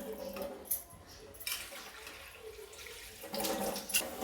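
Running tap water splashes steadily, with louder gushes as something is rinsed under the stream; no voices.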